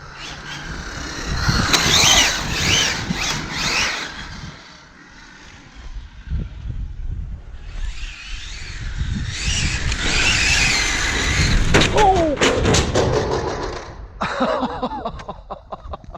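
An Arrma Infraction RC car races and drifts around a corner, its electric motor whining in surges that rise and fall with a few quiet gaps between passes, over wind noise.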